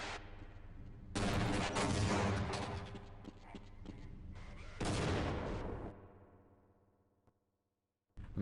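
Shotgun blasts and gunfire in the video game Half-Life: Blue Shift, with a few heavy bursts of firing and their decaying echoes, fading to near silence at the end.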